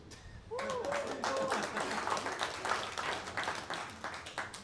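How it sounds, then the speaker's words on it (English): Comedy club audience applause and clapping rise suddenly and continue steadily, with a few voices and whistles mixed in over the noise. "All right, round of applause."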